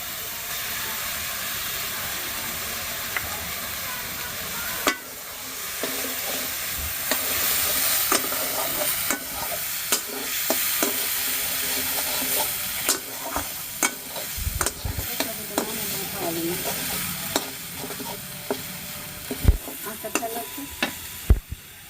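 Mustard paste masala fries in hot oil for a rui fish curry, with a loud constant sizzle broken by repeated scraping and clacking as a spatula stirs it, and thuds now and then.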